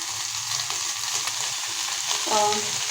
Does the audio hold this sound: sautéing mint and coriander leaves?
yes